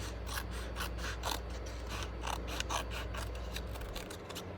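Scissors cut a long strip of paper for a Stampin' Up Halloween cat treat box, making a close, steady run of rhythmic snipping and crunching strokes over a low background hum.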